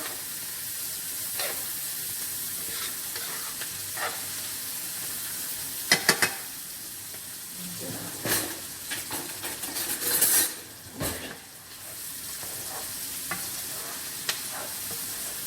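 Mushrooms, onions and thyme sizzle steadily as they cook down in a pan, a continuous frying hiss with occasional louder stirring scrapes and clinks, close and without voices.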